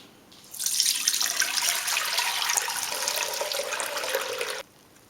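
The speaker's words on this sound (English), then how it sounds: "Now let's pour it in a separate pot and strain out those hops." Homebrewed session pale ale wort poured from a height into a separate pot through a strainer to catch the hops, a steady splashing rush of liquid lasting about four seconds, close and loud with no talk.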